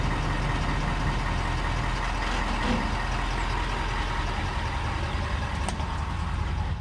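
Ford F350 pickup truck engine running steadily, a continuous low rumbling drone with a faint mechanical knock, even in level and heard alone without talk.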